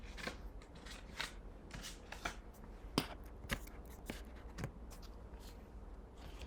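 Tarot cards are handled and pulled during a reading, giving a string of soft close snaps, flicks and shuffling rustles at an uneven rhythm, faint and without speech.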